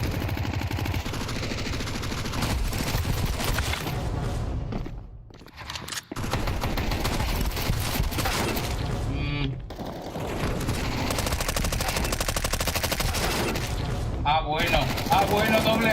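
Dense, loud bursts of automatic gunfire and single shots fill a Counter-Strike 2 match almost without pause, broken by two brief near-silent gaps, with a player's voice mixed in.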